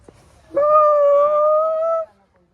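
A dog gives one sustained, steady howl lasting about a second and a half, loud and close, with a sharp onset and abrupt stop, against otherwise quiet surroundings.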